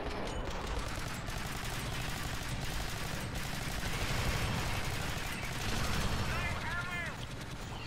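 Automatic gunfire in the top-down shooter Alien Swarm: Reactive Drop, a steady rattle of rapid shots with mechanical clatter, fairly quiet overall, with brief chirping effects near the end.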